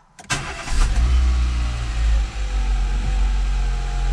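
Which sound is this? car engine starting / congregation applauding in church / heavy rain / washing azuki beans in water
car engine starting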